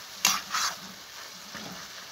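Onions fry in a pan with minced meat and a soft continuous sizzle, broken by two quick scraping stirs at the start and a fainter one later.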